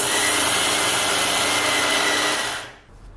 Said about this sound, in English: The red rice is a little harder than the urad dal, so let's grind it for a couple of minutes